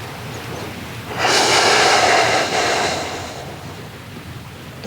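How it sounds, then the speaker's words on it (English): A big breathy exhale during a hip external rotation stretch, a single long airy rush that swells, holds for about two seconds and fades, close and alone with no talk. "a couple more big exhales"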